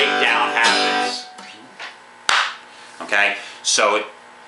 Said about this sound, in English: the clapping breakdown sounds a little bit funny at this tempo